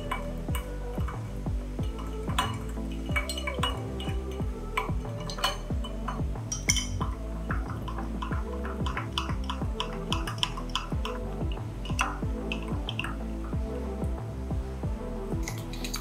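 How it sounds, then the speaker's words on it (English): Boulevardier cocktails stirred with ice in glasses, a steady stream of light clinks, ticks and rattling ice against glass, close and quiet, with no talk. "we're gonna stir the cocktails until cold and diluted."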